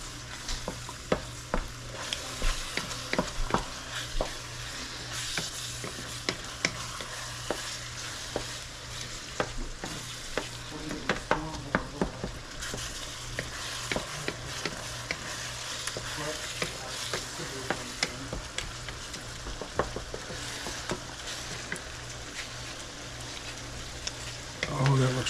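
Taco meat fries with seasoning in a pan, sizzling constantly while a utensil scrapes and stirs in frequent irregular clicks and scuffs, close by, over about twenty-five seconds with little talk.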